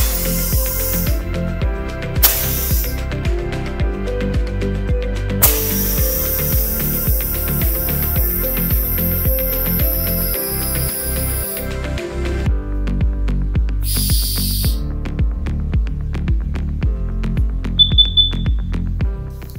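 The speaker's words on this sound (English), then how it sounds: "And now you're good to start inflating." Compressed air hisses into a tyre through a valve core retracting tool, in long steady hissing bursts separated by short pauses, over a low mechanical hum.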